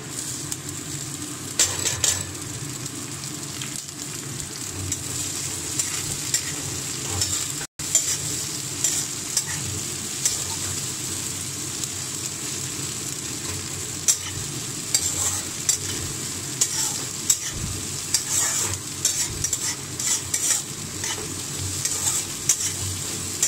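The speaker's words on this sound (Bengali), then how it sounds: "বেশ ভাজা ভাজা হয়ে আসছে।" Chopped vegetables frying in a pan for egg chowmein, a continuous close sizzle broken by frequent scraping clinks of a spatula stirring against the metal.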